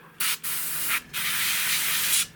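Three bursts of fine hissing spray from a side and siphon feed airbrush, each lasting a fraction of a second to over a second, separated by brief pauses, close and fairly loud.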